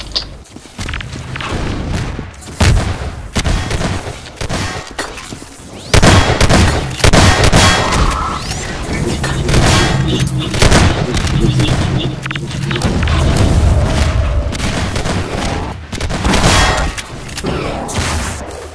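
Heavy booms and thuds from grenade explosions in Half-Life 2 Deathmatch land amid continuous gunfire and movement, loud and dense throughout, with occasional talk underneath.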